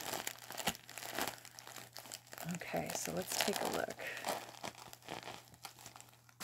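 A Douglas Cuddle Toys plush Australian Cattle Dog is handled in its packaging, giving close crinkling and crumpling rustles in irregular bursts while someone talks over them.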